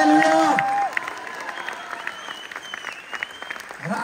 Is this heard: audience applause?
yes